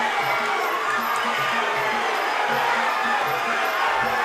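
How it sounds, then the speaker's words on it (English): A fight crowd at a K Series Warriors Cup kickboxing bout cheers and shouts loudly and continuously, a dense roar of many voices with scattered yells rising above it. "This crowd is going nuts right now."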